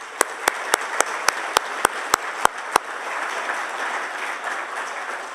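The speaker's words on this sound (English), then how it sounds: "let's give them another round of applause for that." A conference audience applauds in a dense, steady wash of clapping, with a run of sharper, evenly spaced claps standing out near the front for the first few seconds.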